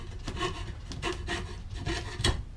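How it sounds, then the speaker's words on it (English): A coping saw cuts through mahogany in steady back-and-forth rasping strokes, about four or five close, fairly loud pulls with no talk. "Saws through this mahogany pretty good."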